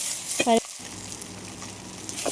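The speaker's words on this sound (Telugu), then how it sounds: "ఇదే ప్యాన్లో కరివేపాకు వేసిన తర్వాత దీన్ని కూడా కొంచెం వేయించాలి" Curry leaves fry in a pan for karivepaku podi. A brief tonal squeak or scrape comes near the start, followed by a steady, moderate sizzle and crackle that carries on to the end.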